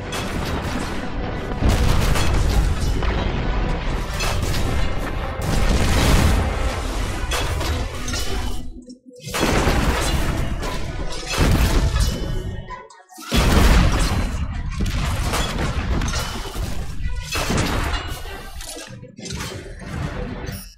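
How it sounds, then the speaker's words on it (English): Red Legion tanks open fire in the Destiny 2 video game, a loud, dense barrage of booming blasts and explosions rolling almost continuously, broken by two short gaps. "Of course the Red Legion have tanks too."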